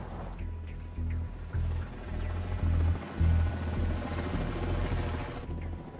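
Attack helicopters of the Algerian army flying overhead during the Ain Amenas hostage crisis, a continuous low rotor drone with pulsing thumps that swells and fades slightly, fairly distant.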